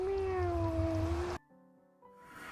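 A cat meows in Minecraft, one sustained tonal call that cuts off abruptly, followed by faint quieter game sounds.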